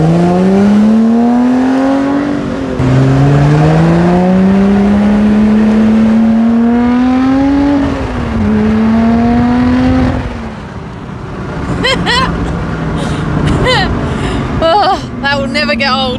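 A Lotus Emira V6 First Edition revs loudly up through rising engine pitches for about ten seconds, then its note changes as it drives away and crackles and pops on the overrun.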